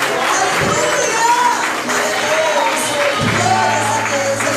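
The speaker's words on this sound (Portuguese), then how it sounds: "Aplauda o Senhor, aplauda o Senhor." A church congregation at a Portuguese-language communion service applauds the Lord, with crowd clapping and cheering running steadily beneath voices and a lingering tonal sound.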